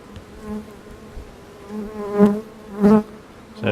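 Honey bees buzz around an open hive during a beekeeping inspection, a close continuous drone that swells in several louder passes as individual bees fly near.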